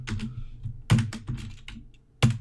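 Keystrokes on a computer keyboard while entering PHP if/else code, a run of close, soft clicks with a few sharper, louder key strikes standing out, no talking.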